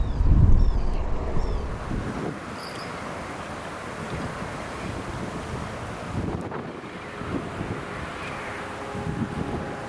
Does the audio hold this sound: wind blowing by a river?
yes